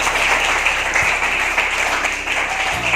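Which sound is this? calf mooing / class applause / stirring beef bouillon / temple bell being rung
class applause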